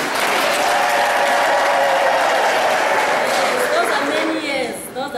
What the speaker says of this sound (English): Can we please clap hands?